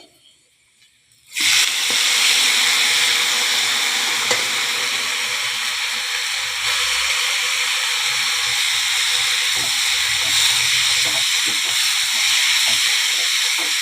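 Vigorous sizzling of oil in a pan as dried red chillies, garlic, shallots, cumin, tamarind and a handful of vallarai leaves fry for chutney, a steady loud hiss with occasional stirring scrapes, beginning abruptly after a short silence.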